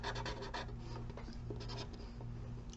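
A black marker sketches on paper in a steady, faint, continuous scratching and rubbing of the felt tip, with brief stroke accents and a low background hum underneath.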